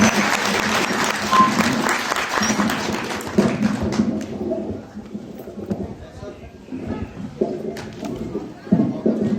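Audience applause welcoming a guest speaker at a Buddhist gathering in Bihar, a dense clapping wash in the first seconds that thins into scattered claps and murmur.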